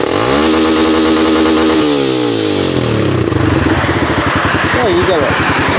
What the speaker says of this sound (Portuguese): Vou dar uma aceleradinha para vocês ouvirem aqui, beleza?